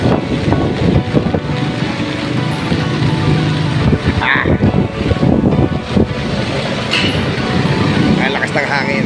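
Strong wind buffeting the microphone on a rainy morning street near a market, a heavy, constant roar, while a person talks underneath it outdoors.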